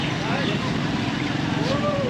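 Steady boat engine drone carries through a trip on the Mekong river in rural Laos near Luang Prabang, constant and fairly close, with voices speaking over it.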